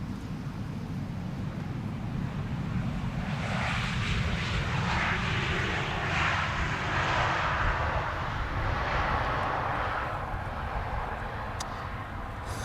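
A Turkish Airlines all-white Airbus A321 arriving at Amsterdam Schiphol, its engines a broad, steady roar with wind noise that swells in the middle, heard from a distance with no voices.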